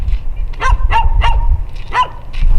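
A dog barks on quiet Isla Tenglo near Puerto Montt, Chile: four sharp, fairly close barks in an irregular rhythm over a low rumbling outdoor background.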